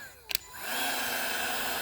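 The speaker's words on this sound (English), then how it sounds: "you can just take a heat gun like this." A heat gun used on vinyl for a vinyl cutter clicks on after a couple of sharp switch clicks and then blows a loud, steady, close whooshing roar with a high motor whine.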